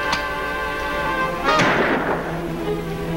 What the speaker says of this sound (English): You better stop shooting, Lofty.